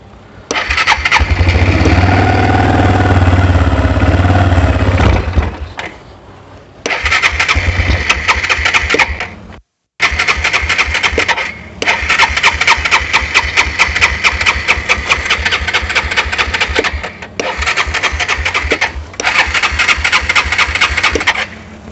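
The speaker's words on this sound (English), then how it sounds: "Let's choke it this time a little bit." A choked engine on a Kawasaki Bayou 220 ATV cranks and catches repeatedly, sputtering into loud, uneven running bursts, cutting out briefly and restarting, close and dominant.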